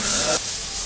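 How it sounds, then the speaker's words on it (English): Interior surfaces at the back of a sunroom are sanded during house construction in the Philippines, a loud, close, abrasive hiss that drops off abruptly to a softer continuous rasp. "more sanding going on"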